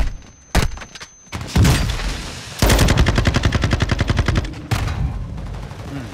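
Gunfire in Call of Duty: Modern Warfare II, single loud shots followed by a rapid automatic burst and further heavy shots, close and punchy with a little background noise.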